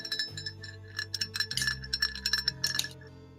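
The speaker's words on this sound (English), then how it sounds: "The bell sounds so sad." A bell-like tone rings out as a tolling sound effect, layered with higher glassy chiming partials and a steady low drone, steady and moderately loud with no speech.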